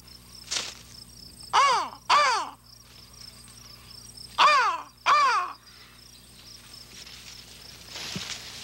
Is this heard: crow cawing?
yes